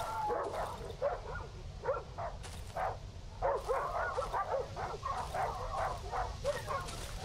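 Dogs attacking in the survival horror game Darkwood, repeated snarling barks and yips in quick uneven bursts, fairly close, with a steady low ambient rumble beneath.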